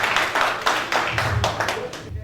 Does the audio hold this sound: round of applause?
yes